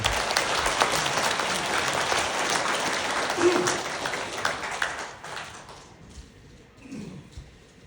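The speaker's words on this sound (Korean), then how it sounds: "여러분 따뜻한 환영의 박수 부탁드립니다" Warm welcoming applause from the audience at an academic forum on the value of the independence movement as a speaker comes up, dense clapping fading out toward the end, with some murmuring and low voices underneath.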